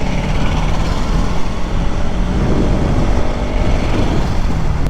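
A 2024 BS7 Bajaj Pulsar NS200 motorcycle ridden at speed on a highway, heard as a loud, steady roar of engine and rushing wind with no breaks throughout.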